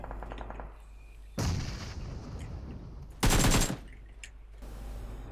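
Gunfire in the mobile battle royale game PUBG Mobile: two short bursts of rapid automatic shots, the second louder and tighter, over a low game background hum with faint distant pops.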